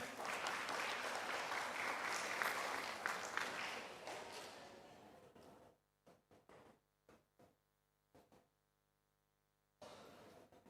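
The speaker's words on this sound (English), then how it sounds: "A round of applause, ladies and gentlemen." At a society conference certificate ceremony, an audience applauds loudly for several seconds, the clapping thinning to scattered claps and then stopping, followed by faint clicks and hum in a quiet hall.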